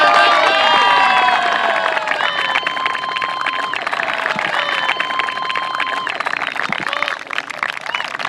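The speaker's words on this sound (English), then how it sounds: "let's get a big round of applause" A big round of applause and cheering from a crowd at a school soccer senior salute, loud and sustained throughout, with shouting voices and speech mixed in over the clapping.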